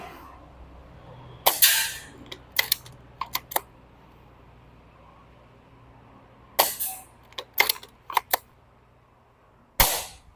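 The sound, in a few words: Ares Amoeba Striker AS01 BB pistol shooting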